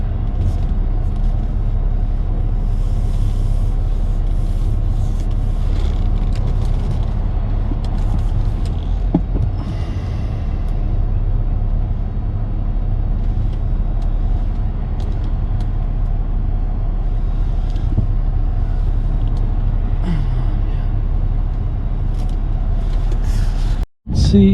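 Busy road traffic rolls past continuously near Breakneck Ridge, with a constant heavy low rumble from cars and larger vehicles close by and no clear breaks, ending in a brief cutoff.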